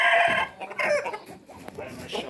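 Chickens clucking and squawking close by in short irregular bursts, with some background noise.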